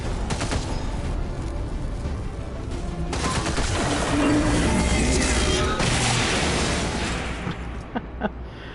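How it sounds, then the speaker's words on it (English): A manual detonation explosion in the video game XCOM 2, a loud booming blast followed by crashing debris and rolling rumble, with a burst of gunfire-like cracks before it tails off. "Is he really going to manual detonate?"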